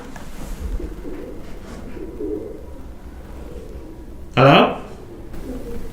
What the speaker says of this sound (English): The constant rustling and cooing of pigeons echo through